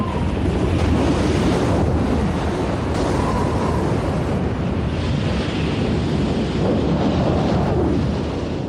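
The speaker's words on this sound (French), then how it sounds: "Force 10 désigne une tempête." Stormy sea at gale force, a steady roar of wind buffeting the microphone over heavy surf and crashing waves, loud and unbroken throughout with no voices.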